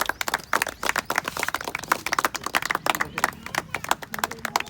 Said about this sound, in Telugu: అభినందిద్దామండి ఒకసారి క్లాప్స్ కొట్టి